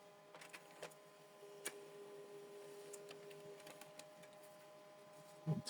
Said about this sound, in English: So the second page is printing.